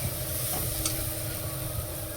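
Steady, close sizzling of fried curry masala in a pan as water goes in for a banana kofta curry, a continuous hiss lasting throughout with no talking.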